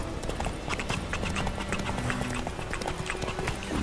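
A horse in The Witcher 3 trots and gallops, a brisk, continuous clip-clop of hooves, fairly close and rhythmic, with no talk over it.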